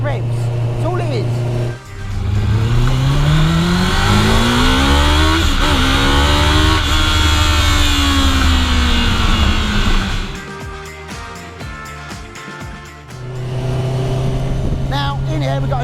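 High-revving Honda engine in a Shayman kit car pulls hard through the gears with rising and falling harmonic sweeps, loud and close, briefly dropping off around ten seconds before climbing again; a voice talks over it.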